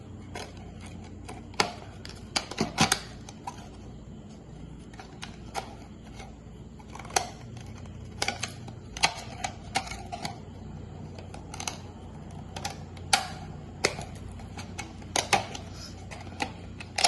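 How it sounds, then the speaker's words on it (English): Scissors cut a plastic bottle into strips, producing a string of sharp, crisp snips at an irregular pace over a faint background hum. The snips sound close and fairly quiet. "we go with our scissor, take stripe by stripe, and just cut where we already marked up."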